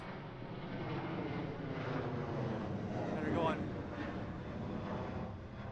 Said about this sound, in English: We are near O'Hare Airport, so you will hear very loud airplanes.